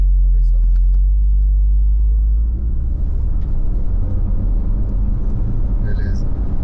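Haval H6 GT hybrid SUV doing a launch control start, brake and throttle held at full before release: a loud, close engine and drivetrain roar with strong low rumble that shifts in character midway as the car pulls away.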